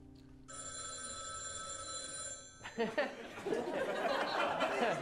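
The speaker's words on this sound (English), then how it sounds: "she gets a phone call from Mima." A telephone rings with a steady electronic trill for about two seconds during a live improv comedy show, then stops as the audience laughs and people talk.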